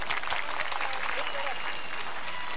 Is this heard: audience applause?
yes